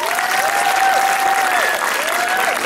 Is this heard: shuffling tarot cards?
no